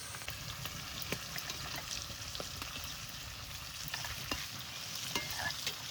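A large river-caught rita fish fries in hot oil with a dense, continuous sizzle, punctuated by sharp spattering pops and crackles heard up close.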